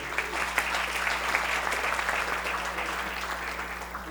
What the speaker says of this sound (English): Send a round of applause for Coach Satterfield.